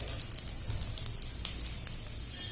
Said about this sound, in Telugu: ఇప్పుడు వెల్లుల్లి వేయాలి ఉల్లిగడ్డ